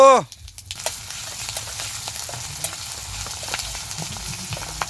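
Continuous hot oil sizzle in a wok for cooking small koi fish outdoors, close and steady with scattered pops and crackles, following a brief tonal sound at the very start.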